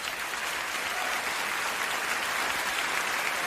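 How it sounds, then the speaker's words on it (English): Dense, sustained applause from a large audience at the Oscars ceremony, an even wash of many hands clapping at once with no break. "the applause at the Oscars after he says all this."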